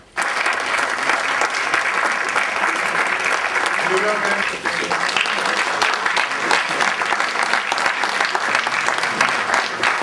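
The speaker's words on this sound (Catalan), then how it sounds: "Un aplaudiment, sisplau." An audience applauds a short-novel prize winner at a city award ceremony in Mollerussa, with dense, loud, sustained clapping that runs evenly throughout.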